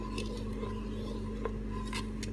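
A spoon stirs Kharberd-style tanapur soup in a pot, with soft scraping and a few light metallic clinks against the pot.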